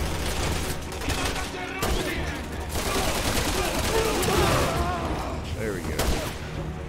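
Grenade blasts and heavy gunfire crackle through a Resident Evil 6 firefight, with rapid bursts and booming hits layered densely for several seconds while someone speaks briefly over the din.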